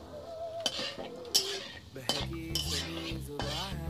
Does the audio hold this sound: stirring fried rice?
yes